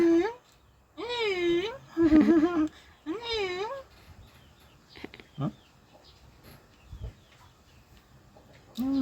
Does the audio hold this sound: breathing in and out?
no